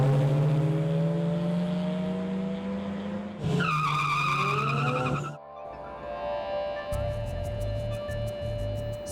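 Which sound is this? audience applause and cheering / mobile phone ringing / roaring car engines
roaring car engines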